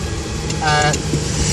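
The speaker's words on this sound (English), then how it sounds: "it's idling in gear without my foot on it" A Bedford Bambi van engine idles in gear with a steady low rumble throughout, with a brief higher whine in the middle.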